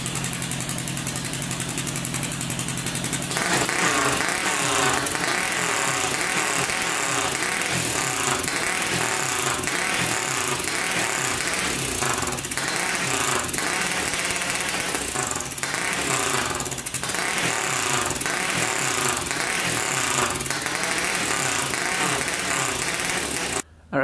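A turbocharged Honda 400ex ATV engine runs steadily close by, droning and bogging down throughout, then cutting out abruptly at the end.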